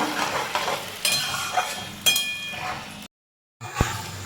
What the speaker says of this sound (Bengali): বেরেস্তাটা বানানোর জন্য প্লেটে লাল লাল করে ভেজে নেবো পুরো কালো করবো না